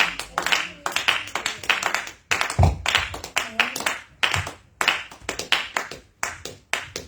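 Church congregation clapping rhythmically in worship, loud and close, with shouted voices mixed in over steady hand claps throughout.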